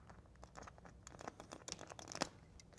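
Sill pan flashing being cut for a window installation gives quiet, close crinkling and tearing crackles in uneven bursts, with no speech.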